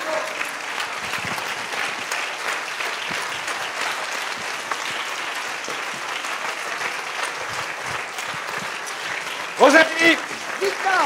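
An audience at a live performance applauds steadily for several seconds in a dense, continuous wash of clapping, with a voice speaking briefly over it near the end.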